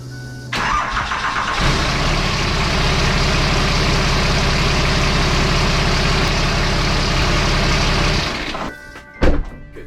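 A Cummins 5.9 diesel swapped into a King Ranch pickup starts up, runs loud and steady with a dense clattering roar for several seconds, then shuts off with a shudder and a brief clunk.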